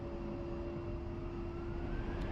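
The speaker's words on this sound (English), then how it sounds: "there's a Huey coming in with a sling load" A Huey helicopter carrying a sling load in the DCS flight simulator, a steady droning engine and rotor hum with a constant whine, even and unbroken throughout.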